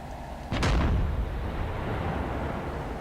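Tank cannon firing in a video game: one heavy, close boom followed by a long, rolling rumble that lingers to the end.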